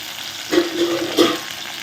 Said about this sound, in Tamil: இந்த மாதிரி மிக்ஸ் பண்ணிடுங்க வெண்டைக்காய் வந்து வதக்கும்